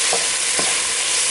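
Onion, garlic and shallot fry in a soup pot with a loud, steady hiss, and a spoon scrapes through them twice, close up.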